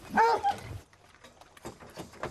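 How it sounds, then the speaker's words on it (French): Hunting dogs in a kennel at feeding time give a sharp yelp or bark up close, followed by softer whimpers and scuffling movement. "Donc j'ai 7 chiens dans le chenil"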